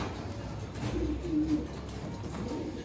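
Caged pigeons give soft, low coos amid faint background noise, a few murmuring calls rising briefly in the middle of the short stretch.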